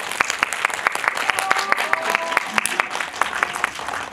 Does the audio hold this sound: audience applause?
yes